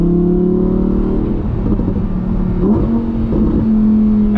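A Lamborghini engine in Corsa mode revs and accelerates, loud and close, with the back window open. Its rising whine climbs through the gears with a brief dip at a shift, and no one speaks.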